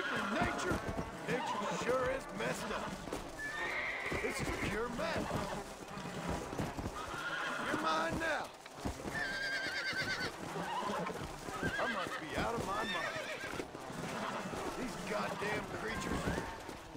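Horses neigh and gallop with clip-clop hooves in the Red Dead Redemption: Undead Nightmare video game, a dense continuous game soundscape with a steady rhythm throughout, mixed in with a player's talking.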